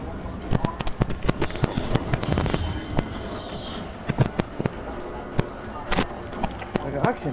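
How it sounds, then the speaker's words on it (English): Flashbang grenades popping in a video game, a rapid scatter of sharp bangs and cracks throughout, with people talking over them. "See what them throwing on flashbangs, yo."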